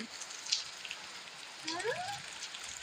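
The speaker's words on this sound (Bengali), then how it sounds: "এই যে বৃষ্টি হচ্ছে দেখছো বৃষ্টি কালকে থেকে শুরু হয়েছে" Steady rain falls at night during a storm, a continuous soft hiss of drops with a few brief sharper taps and a faint rising whistle near the end.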